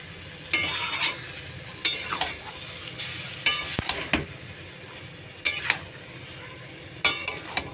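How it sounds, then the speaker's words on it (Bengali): Fish frying in a pan over raised gas heat, with a continuous sizzle and repeated sharp scrapes and knocks as it is stirred, heard close with no talking. "এই দেখো এবার আমি মাছটা দিয়ে দিলাম মাছটা দিয়ে এবার গ্যাসটা বাড়িয়ে দেবো দিয়ে এবার এটাকে নাড়বো সুন্দর করে"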